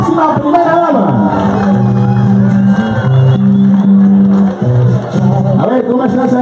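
Large crowd at a political rally for Gustavo Petro in San Andrés, Colombia, cheering and shouting loudly and continuously, a dense roar of voices with whoops rising throughout, with no clear individual speech.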